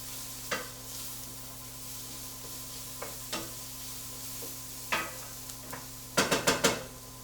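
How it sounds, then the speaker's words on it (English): Chopped onions sweating in a pan for a chicken parm meatball tomato sauce, a soft steady sizzle with a few spoon scrapes and a quick run of stirring clatters at the end. "this also is going to help sweat out the onions so that they will release moisture"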